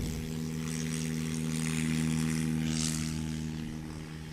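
A large Piper Cherokee model airplane taking off with flaps down at a short-takeoff event: a steady propeller drone at moderate distance that swells slightly and then eases, with no talk.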